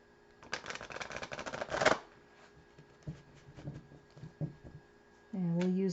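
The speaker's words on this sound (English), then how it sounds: "So let's pull 3 cards here." Tarot cards riffled in a quick, crisp shuffle lasting about a second and a half, followed by a few soft taps and slides as cards are pulled and laid down, close by, ending under a voice.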